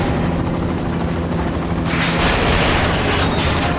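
Helicopter in the video game 007 Quantum of Solace, a loud continuous rotor roar filling the scene, with a burst of gunfire-like noise swelling in partway through.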